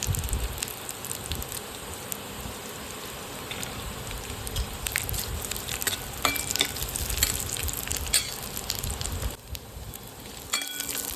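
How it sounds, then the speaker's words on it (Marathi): Grated coconut roasts in a pan beside onion, giving a soft continuous crackling sizzle with occasional stirring scrapes, moderately quiet and without speech. "त्याच्याच साईडला आपण थोडंसं खोबरं टाकू ते भाजून घेऊ"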